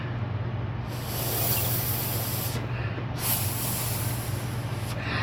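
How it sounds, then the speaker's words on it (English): A handheld blowing tool pushes air over acrylic pour paint, making a close, continuous airy hiss that briefly cuts out and resumes a few times. "Oh, I got a new blowing tool."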